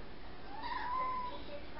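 A house cat gives a single soft, drawn-out meow, faint and somewhat distant against low indoor background noise.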